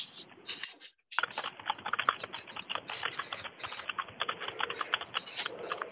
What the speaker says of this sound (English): that's a loud keyboard.